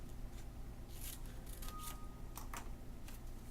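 Scissors snip a folded paper trapezoid, several quiet crisp cuts in a short irregular series over a low steady background hum.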